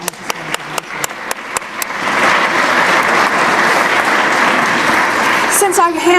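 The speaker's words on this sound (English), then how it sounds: "Congresswoman Tsongas deserves a real round of applause on this one" A few sharp individual claps open, then a crowd breaks into loud, dense applause for a congresswoman at a Third District Day event with a senator, holding steady until a voice starts speaking over the tail end.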